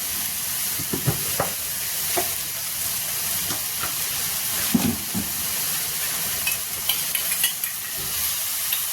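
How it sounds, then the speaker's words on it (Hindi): Spices (turmeric, coriander and chili) frying in a pan: a soft continuous sizzle and hiss with scattered spoon scrapes and clicks. "तो मसाला पका लेते हैं"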